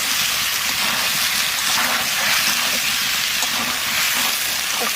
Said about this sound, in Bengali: ইঁচড়ের সাথে আর একটু কষাবো।